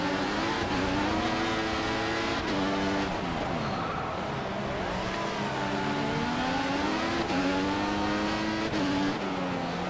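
Formula 1 race cars in the F1 2014 game at the Singapore Grand Prix roar close by, engines revving and shifting continuously as one car overtakes another, loud and steady throughout with no talk.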